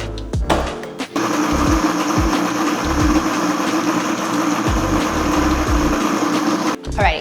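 Countertop blender pulsing a marinade with lime juice for Mexican cooking, a few short bursts at first, then one long steady motor whir before it cuts off near the end.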